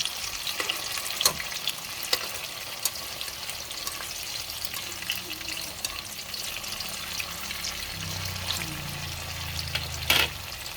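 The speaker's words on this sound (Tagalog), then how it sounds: "Iprito lang muna natin lahat yung ating tokwa bago tayo magsimulang mag-gisa." Pieces of tokwa (firm tofu) frying in oil in a pan give a steady, soft, continuous sizzle, with occasional scraping and stirring clicks and a low rumble near the end, and no voices.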